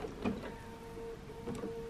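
A sewing machine stitches a blanket-stitch appliqué slowly, giving a faint mechanical whir with a steady hum and two brief louder pulses, quiet and close.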